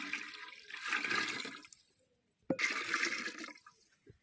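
Coconut milk and water pour into a pot of rice being cooked, with two splashy bursts of liquid separated by a short pause, close and fairly loud.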